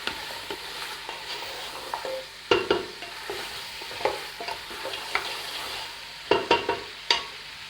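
Goat trotters fry with ginger, garlic and cardamom in a pot, giving a soft steady sizzle broken by scraping, clattering strokes of a spoon as they are stirred, close and with no talking.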